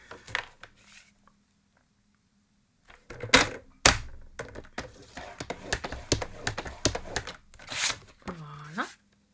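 A paper card base, 14.85 by 21 cm, is folded in half, giving a cluster of crisp rustles, taps and creasing thunks close by after a quiet start, with a voice speaking over parts of it.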